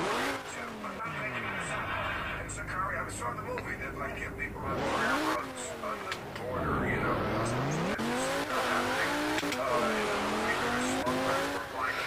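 A fast race car in the Roblox video game roars and revs on the Circuit de Catalunya track, its engine pitch sweeping up and down through gear changes, with tire squeal and a person talking over it throughout.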